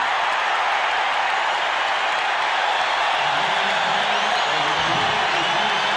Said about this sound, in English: there are a goodly number of Bears fans applauding that touchdown here in Tampa